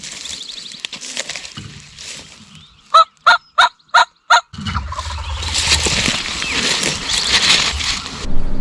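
A wild turkey in the spring woods lets out a sharp burst of five loud gobbles in quick succession, preceded and followed by rustling movement and a noisy wash of outdoor sound.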